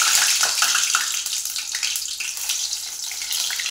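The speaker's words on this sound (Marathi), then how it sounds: "सगळी वांगी एका वेळी तळायला टाकलेली आहेत बघा" Steady, dense sizzling and crackling of brinjals frying in plenty of hot oil in a wide kadai, loud and close, continuing without pause and no voices.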